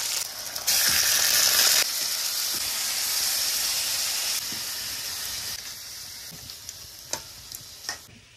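Vegetables sizzle and fry in a pan over a wood fire outdoors, a steady close hiss that swells loudly for a moment, then settles, with a few soft clicks and taps near the end.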